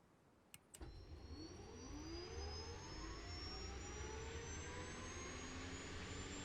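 A game aircraft engine from Arma Reforger spooling up, a rising turbine whine building over a low rumble after a couple of clicks, steady and close with no talking.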